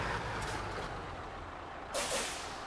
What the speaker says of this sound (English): See if I can just slam the brakes going downhill